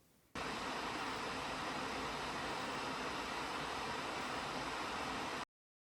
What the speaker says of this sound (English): My laptop is currently running a game with the fans running loudly in front of me.